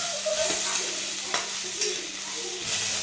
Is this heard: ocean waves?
no